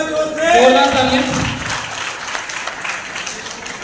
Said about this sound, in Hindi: तालियां बजा दो भाई जोर से। जोरदार तालियां।